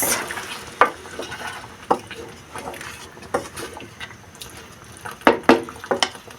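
A spoon stirs a tomato and egg mixture in a pan for Kashmiri tamatar ti thool, giving soft scrapes and clinks that repeat irregularly over a faint sizzle, close by.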